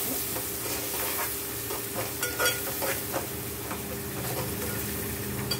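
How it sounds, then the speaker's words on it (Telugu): A prawn and okra curry with curry leaves and coriander sizzles as it fries in a pan, with repeated scraping stir strokes over a continuous close crackle and no talking. "బాగా ఫ్రై అవ్వాలండి."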